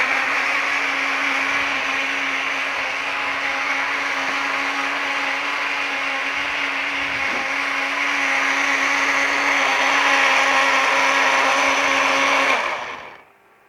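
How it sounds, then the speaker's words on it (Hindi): An electric grinder blends softened bananas into a shake with a loud, steady high-pitched whir that runs unbroken for about twelve seconds before spinning down and stopping, no voices. "और इसको मैंने ग्राइंडर में डाला"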